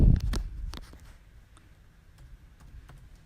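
A bucket name is typed on a computer keyboard. A loud thump opens the clip, followed by a few sparse, faint key clicks.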